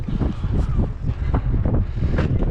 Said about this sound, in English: As you can see by the windsock, there is quite a breeze